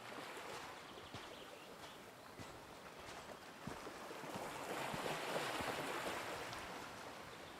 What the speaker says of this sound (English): Sound like somebody running in the water.